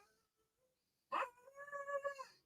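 A dog being dog-sat lets out a single drawn-out whine or howl after near silence, close and fairly quiet, its pitch wavering slightly before trailing off.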